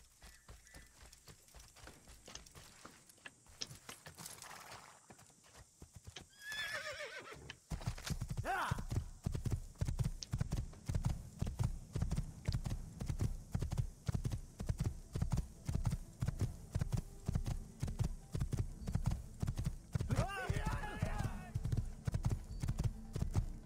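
A horse in the video game Assassin's Creed whinnies, then breaks into a steady, rapid gallop of clip-clopping hoofbeats that runs loud and continuous for most of the clip, with another neigh partway through.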